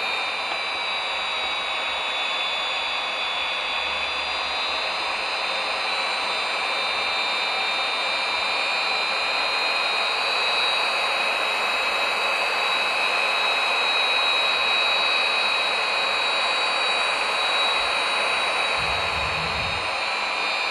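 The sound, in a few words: F-16 jet engine during takeoff in a flight simulator video game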